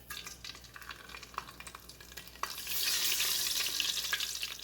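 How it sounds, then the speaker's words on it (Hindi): Whole spices in hot oil: a cinnamon stick, black peppercorns and black cumin sizzle and crackle steadily nearby, with the frying getting louder and hissier halfway through, no voice. "डालेंगे इसमें थोड़े से गर्म मसाले।"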